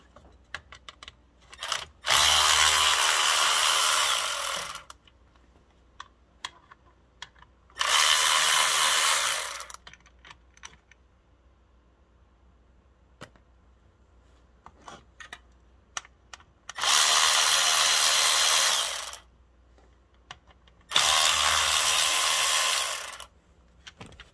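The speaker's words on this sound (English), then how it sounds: "Take the bolts out of this." Bolts being removed from a BMW 650 with a power tool, heard as four loud, sustained whirring bursts of a few seconds each, separated by quieter gaps with faint clicks and handling noise.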